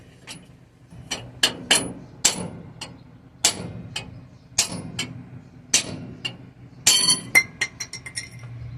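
Repeated sharp metallic hammer strikes on a square-body farm truck at an irregular pace, ringing and clinking, with a quick flurry of blows near the end.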